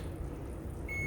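One brief electronic beep from an oven control panel button near the end, sounding over steady low room noise with no voices.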